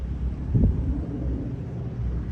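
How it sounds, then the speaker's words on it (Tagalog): Strong wind buffeting the microphone during outdoor pigeon training, a continuous low roaring rumble with a brief louder gust near the start. "Malakas kasi yung hangin."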